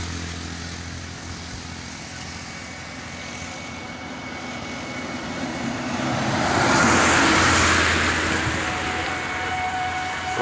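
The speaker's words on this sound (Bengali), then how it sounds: "বাস আসতেছে" A bus crossing the China Friendship Bridge in Ladakh swells into a rushing engine and tyre roar as it passes close by, over steady wind and traffic noise.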